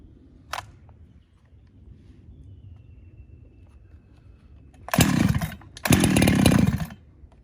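A ported Husqvarna 365 chainsaw with a 52mm setup and a genuine 372 X-Torq carb, running lean, gives two loud, close revving bursts after a quiet low idle and a brief blip near the start.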